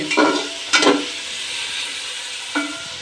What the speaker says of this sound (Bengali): এখন তেলের মধ্যে চিকেনটা দিয়ে একটু নেড়ে চেড়ে ভেজে